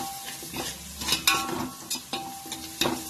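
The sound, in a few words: stirring garlic chili paste into frying pan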